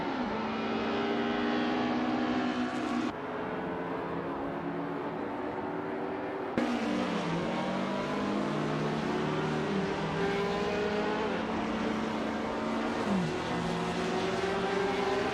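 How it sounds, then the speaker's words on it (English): Race car engines in a 1950s Formula One racing video game, a continuous loud droning roar of several engines, with pitch climbing and dropping through gear changes and sudden cuts, no talk. "Stay tuned as we continue to watch this exciting R-powered racing action."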